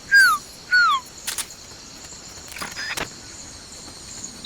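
Two clear descending whistled bird calls, presented as the Quetzal in Metal Gear Solid: Peace Walker, open the sequence loudly before fading into faint clicks, rustles and soft game noise.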